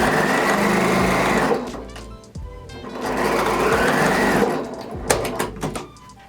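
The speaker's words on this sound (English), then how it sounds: "and go ahead and stitch it up." A sewing machine stitches layer-cake quilt fabric pieces together, its fast, even whir running for about two seconds, pausing with a clunk, running again, then ending in a few close clicks.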